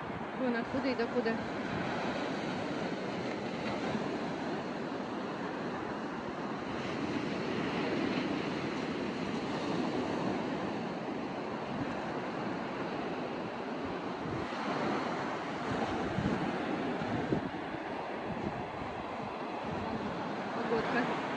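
Continuous roar of waves rolling in and breaking, mixed with gusty wind buffeting the microphone, steady and fairly loud throughout.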